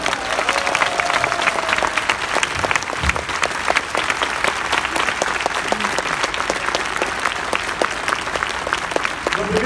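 A protest crowd applauds to greet a judge: dense, sustained clapping at steady loudness throughout, fairly close, with a few voices mixed in.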